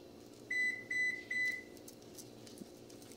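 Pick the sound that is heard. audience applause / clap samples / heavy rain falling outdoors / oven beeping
oven beeping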